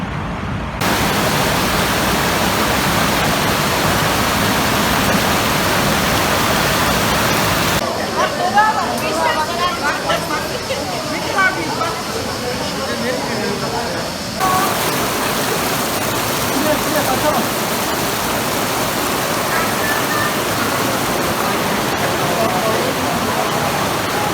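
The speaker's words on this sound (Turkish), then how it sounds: "Sadece su sesi var." Rushing water pours through Şahindere Canyon in the Kaz Mountains, a steady, dense roar of falling and flowing water that holds unbroken for the whole stretch, loud and close with no pauses.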